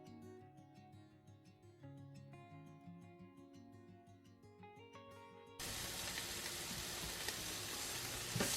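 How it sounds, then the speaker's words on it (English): Chopped sausage browning in a pan. Tonal music plays at first, then a loud, steady sizzle takes over abruptly for the last few seconds. "I'm just going to chop up the sausage and add that to the pan to brown"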